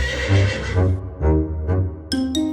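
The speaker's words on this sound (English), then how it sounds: "And then she heard sounds of a horse." Horse whinnies loudly in two rising, wavering calls, with a brief higher snort-like burst near the end, in a fairy-tale tower scene with no speech over it.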